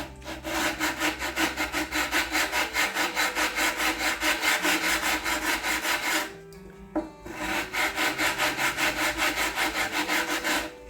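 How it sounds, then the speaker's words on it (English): Rhythmic back-and-forth scraping of a rough-grade sandpaper on a block working a wooden edge, steady and close, with a brief pause just past the midpoint before the strokes resume. "I have a little bit rougher grade of sandpaper on this too"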